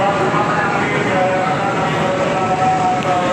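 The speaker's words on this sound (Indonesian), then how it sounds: "ini sementara diisi oleh KA Jayakarta menuju ke stasiun Pasar Senen" Indonesian KA Jayakarta passenger train heading toward Pasar Senen station, a steady loud rumble of rolling carriages with continuous rail noise and no distinct horn, throughout the whole moment.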